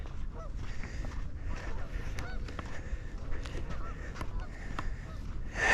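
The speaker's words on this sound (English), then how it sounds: "These are the Canadian geese. Big bird." Canada geese honk intermittently at a moderate distance in an outdoor park setting by a beach, the calls scattered over a low ambient rumble with no talking.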